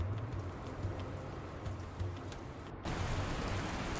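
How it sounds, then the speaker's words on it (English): Heavy rain pours in the post-apocalyptic trucking game Dustland Delivery, a dense, steady hiss that briefly cuts out and then resumes just as strongly. "And now it's heavy rain"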